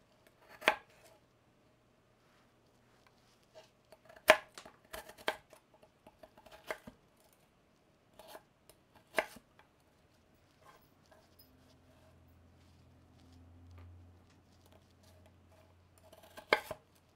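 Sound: chopping tomatoes with a knife

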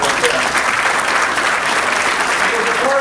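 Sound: audience applause at hall of fame induction

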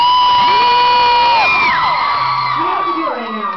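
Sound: concert audience cheering loudly

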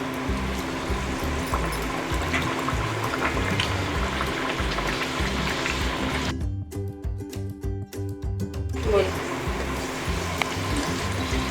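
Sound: puris frying in hot oil

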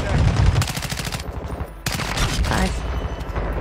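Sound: gunshots in video game

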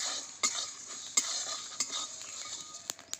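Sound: fenugreek spices crackling while dry-roasting in a pan

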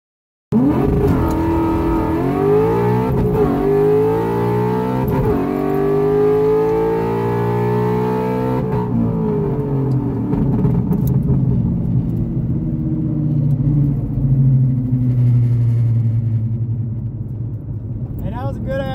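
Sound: all-motor Mustang drag race run on 1/8 mile

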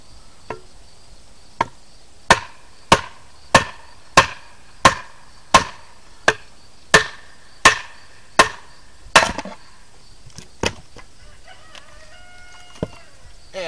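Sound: splitting a firewood log into a wood carving blank

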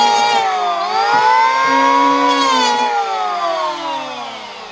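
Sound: sanding hardwood charcuterie board with 60 grit power sander

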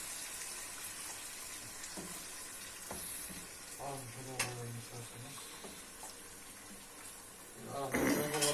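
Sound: stirring rice pilaf in a pot

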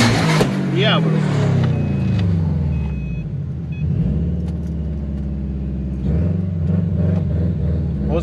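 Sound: turbocharged car engine, Subaru WRX

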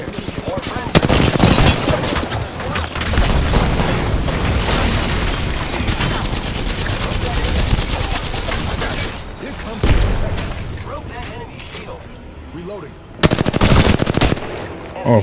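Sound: gunfire in the video game Apex Legends

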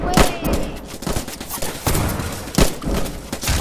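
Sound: gunfire in the video game Roblox Trenches

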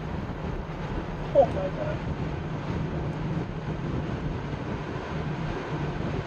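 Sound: small airplane accelerating during takeoff

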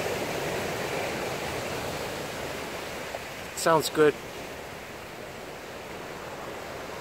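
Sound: ocean waves crashing on shore

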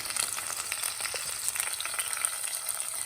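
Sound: onions frying in a pan until golden for mutton curry

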